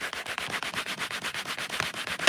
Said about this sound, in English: just wipe it back and forth on one side to clean and then dry it on the other